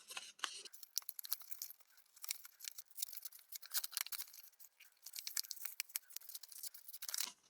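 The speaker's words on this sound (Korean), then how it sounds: "이렇게 표시한 다음에 선에 맞춰서 양쪽을 접어줍니다." Papery crinkles and crisp rustles from sheets of paper being folded along marked lines for a one-sheet book art craft, a steady run of close, quick crackles and swishes with no voices.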